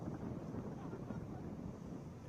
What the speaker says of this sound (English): you can hear the winds howling into the microphone on the field, Kurt.